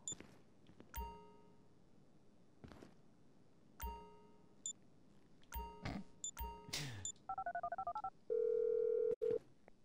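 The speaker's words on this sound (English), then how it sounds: "I'm making the call." A phone in GTA V gives a run of dialing tones: scattered chiming beeps, then quick pulsed tones and a longer steady tone near the end, close and clear with no talk.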